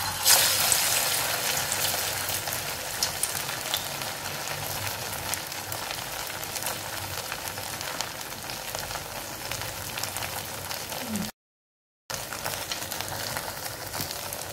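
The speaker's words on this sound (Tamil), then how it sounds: "இப்போ இதை எப்படி நம்ம போட்டு எடுக்கிறது எண்ணெயில் நம்ம பார்க்கலாம்." Aval vada, a flattened-rice fritter, sizzles steadily in hot oil, close by and alone. The hiss is constant and dense, and it drops out for a moment near the end.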